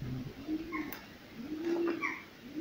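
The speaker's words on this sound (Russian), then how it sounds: "Здесь только птички." Birds call inside an abandoned stable, giving soft, low, cooing-like phrases that repeat a few times at moderate distance over a quiet, roomy background.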